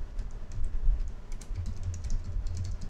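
A computer keyboard is tapped in a quick flurry of soft, close keystrokes as a shortcut is entered, with low room hum underneath and no speech.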